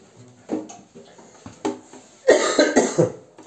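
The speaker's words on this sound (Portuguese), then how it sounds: "Desculpa aí que eu tô um pouco gripado, tossindo." A man with a cold coughs several times indoors, short separate barks that build into a heavier, longer coughing fit near the end, close and fairly loud.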